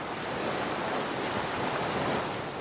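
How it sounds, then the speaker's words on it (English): Ocean waves washing onto a shore, a steady broad hiss of surf, loud and continuous with no distinct individual breakers and no voices. "listen to the waves lap onto the shore"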